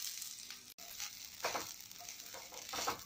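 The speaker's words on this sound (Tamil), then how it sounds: "இப்போ நம்ம எடுத்து வச்சுருக்க இந்த தேங்காயை போட்டு ஃப்ரை பண்ணிக்கலாம்" Grated coconut fries in ghee in a pan, giving a steady close sizzle with bursts of crackling and the scrape of stirring throughout.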